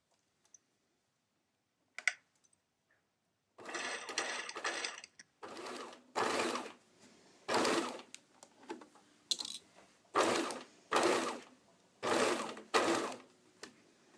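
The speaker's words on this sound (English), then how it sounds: "When you get to the neckline, you're going to have to sew a corner." A sewing machine stitching around a tight neckline corner, running in several short bursts with pauses between them, near and loud, after a few faint clicks at the start.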